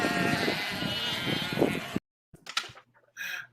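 Sheep bleating as a sound effect on a livestream, with a dense, loud burst of overlapping bleats for about two seconds, then a short silence and a few fainter, separate bleats.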